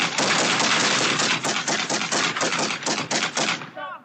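Police fire a rapid burst of gunshots at a suspect armed with a knife, the cracks coming in dense succession over a few seconds before the volley breaks off. Voices shout underneath.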